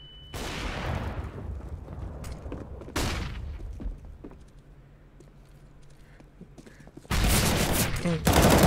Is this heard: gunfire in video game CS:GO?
yes